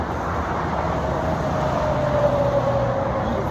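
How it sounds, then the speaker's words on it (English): Steady highway traffic on the I-40 in Albuquerque gives a continuous broad roar of passing vehicles, with a faint tonal whine from one passing vehicle partway through and no speech. "I hope y'all can hear me, all this traffic."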